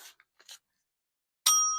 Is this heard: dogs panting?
no